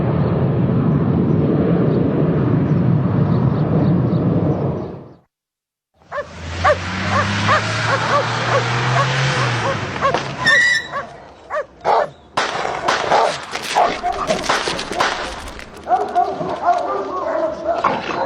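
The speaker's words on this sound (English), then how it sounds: "This is an exercise for drug-sniffing dogs." Drug-sniffing dogs in a training exercise bark, yip and whimper loudly nearby, mixed with voices, engine-like rumble and a brief dropout partway through.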